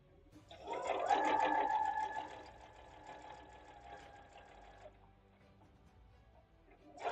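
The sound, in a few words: sewing machine stitching flange binding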